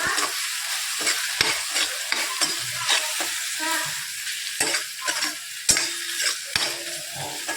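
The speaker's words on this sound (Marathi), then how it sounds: "इथे आता आपण सगळं पूर्ण मिक्स करून घ्यायचे ते सुके मसाले" A spatula stirs dry spices, tomato and onion in a sizzling pan for dhaba-style methi masala, giving repeated scraping strokes over a steady frying hiss, loud and close, with no one talking.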